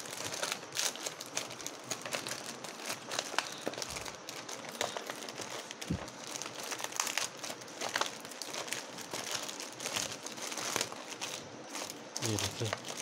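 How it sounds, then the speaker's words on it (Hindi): Plastic packaging around a green glue gun is torn open with steady crinkling and crackling that runs throughout at moderate, close range. "ये तरह से अभी पैक प्लास्टिक में पैक किया गया है, तो मैं इसे भी अभी खोलूँगा।"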